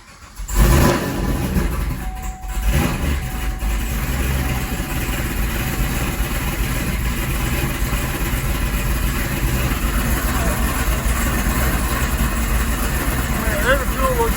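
A street car's engine idles steadily at close range while warming up, a continuous low rumble that follows an initial start-up burst and holds even through to the end.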